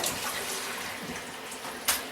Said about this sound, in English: put the kettle on to get some boiling water